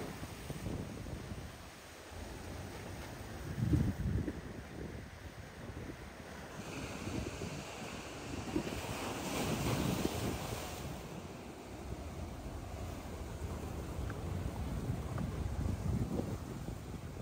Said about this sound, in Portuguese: O mar tá avançando, procurando o espaço dele